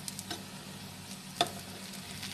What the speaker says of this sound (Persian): کفگیر رو کاملا زیر کوکو میبرید و به این شکل برمیگردونید.